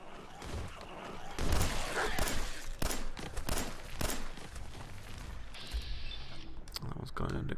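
Gunfire and combat sounds from shooting enemies in Fallout 4 survival mode: several sharp shots and impacts rise through a busy, continuous game soundscape, with brief speech in places.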